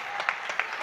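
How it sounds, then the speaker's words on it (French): Steady applause from the crowd at a French women's basketball league game between Lattes Montpellier and Lyon, a dense wash of clapping with a few sharper claps standing out, heard briefly and without talk. "Voilà, on applaudit"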